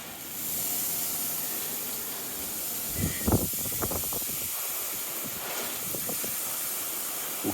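Water spray rinsing a car's paintwork after a ceramic spray coating test, a steady broad hiss that runs continuously with a few splashing spatters midway.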